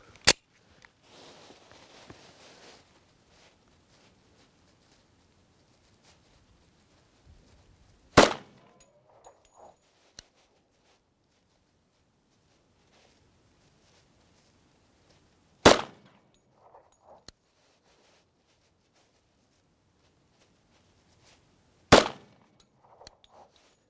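Three sharp, loud 10mm pistol shots from a Colt Delta Elite, fired over a chronograph about seven seconds apart, each a sudden crack with brief echo and near-silence between.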